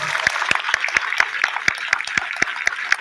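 An audience at a Hindi comic poetry recital claps in an even, rhythmic beat of about four claps per second, loud and steady for a few seconds.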